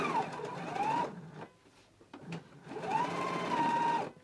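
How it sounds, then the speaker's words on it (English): A sewing machine top stitches the fly of a garment in two close, loud runs of rapid whirring stitching, separated by a short quiet pause with a few clicks. "I'm going to go ahead and top stitch following my stitching line."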